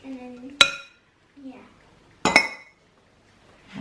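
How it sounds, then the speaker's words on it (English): A metal spoon clinks sharply against kitchen dishes twice while pizza dough is made, bright close strikes with soft kitchen handling noises between them. "I need to grab myself a bigger spoon."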